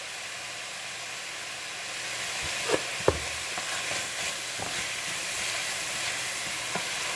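Frozen vegetables for homemade vegetable soup cooking in a pot and being stirred, with a steady sizzle and hiss broken by a few scraping knocks of the spoon against the pot, close and moderately loud.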